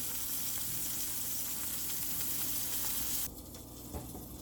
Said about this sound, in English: Sizzling sausage.